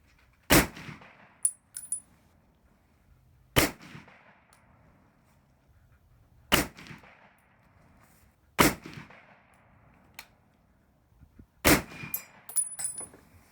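A 1954 Harrington and Richardson military surplus rifle fires five sharp, loud shots spaced a few seconds apart, each ringing and echoing briefly outdoors, with faint clinks between shots.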